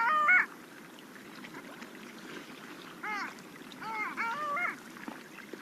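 Female long-tailed sea duck giving nasal, yodelling calls in bursts: a loud call at the start, then another run of calls from about three seconds on, over a steady low background murmur.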